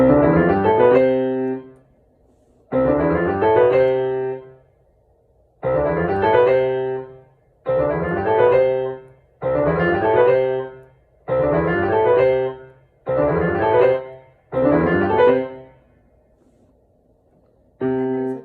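A piano scale played with both hands rings out in a series of separate phrases with short pauses between them, clear and close, with no talking.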